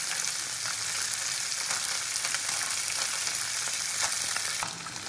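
Kajli fish fry in hot oil in a pan, a loud, dense, continuous sizzle up close that eases slightly at the very end, with no voices.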